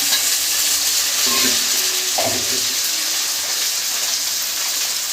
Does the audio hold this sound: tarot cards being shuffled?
no